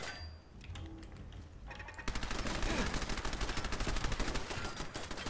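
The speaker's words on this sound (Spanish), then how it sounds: "Esa está muy bien puesta esa ametralladora" Rapid machine gun bursts in the Fallout 4 video game, a loud continuous rattle of closely spaced shots that kicks in after quieter gameplay noise and keeps hammering steadily to the end.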